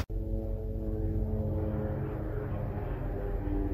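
Propeller airplanes drone overhead in a steady low hum with layered engine tones, continuous and fairly close, with no talking.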